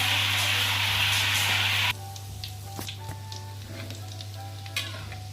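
Donut dough frying in oil in a home kitchen, a loud broadband sizzle for the first two seconds that drops to a quieter crackle with scattered pops and faint clinks, no voices.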